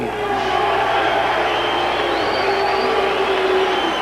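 A boxing arena crowd reacting to the introduction of Greg Page for a 1984 WBC heavyweight bout against Witherspoon, a steady, dense roar of voices, cheers and jeers mixed together, sustained and fairly loud throughout.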